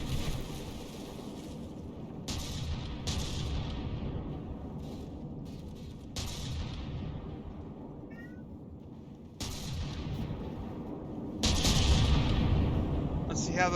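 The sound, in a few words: CRAM cannon shells firing and exploding, From The Depths video game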